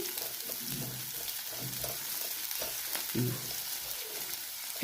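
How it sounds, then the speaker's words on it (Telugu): Onions and garlic frying in a pan for a home-style curry, giving a steady low sizzle and crackle with a few stirring scrapes and clinks throughout, fairly quiet and close with no talking. "కొంచెం గోల్డెన్ బ్రౌన్ అయ్యే వరకు వేయించుకోవాలి"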